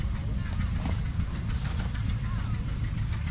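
A 1963 Farmall 560 tractor engine runs at a steady low idle, with a rough, slightly knocking rumble outdoors at a threshing show, and faint voices in the background.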